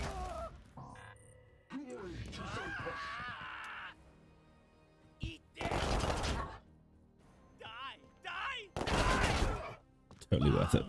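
Bursts of gunfire and a grenade blast from the Warhammer 40,000 Chaos Gate Daemonhunters video game come in loud, broadband bursts separated by quieter gaps, with creature-like calls and other game effects between them.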